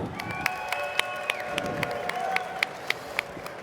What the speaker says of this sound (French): un tonnerre d'applaudissements pour Tomohiro Arayama